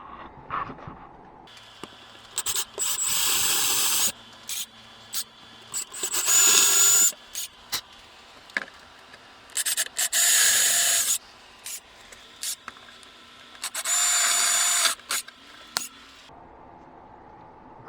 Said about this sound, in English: I'll start drilling holes